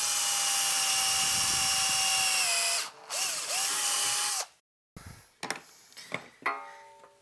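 A power drill with a worn drill bit whines steadily while boring into metal chassis stock for a tube amplifier build. The tone drops and stops, then comes back in short bursts with clicks and scraping.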